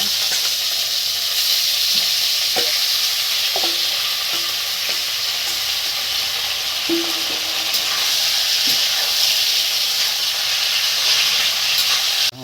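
Meat and onions fry steadily in a pan for a hill-style taro and broiler chicken curry, a continuous loud sizzle with occasional clinks and stirring scrapes, no voices.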